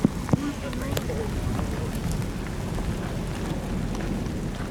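Steady rain hisses outdoors during a Kansas tornado-chasing storm, a close, constant wash with wind buffeting the microphone and a couple of sharp knocks near the start.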